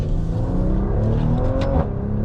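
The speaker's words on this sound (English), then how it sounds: "when you hit the gas, it just is so responsive" A Maserati Levante SUV in sport mode accelerates, its engine rising in a loud, close, smooth growl heard from inside the cabin, with no talking.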